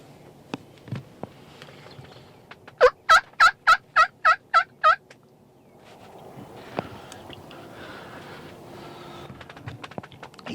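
A wild turkey tom in a South Texas field gobbles in one rapid, loud burst of repeated rattling notes, set against wind noise with a few faint clicks before and after.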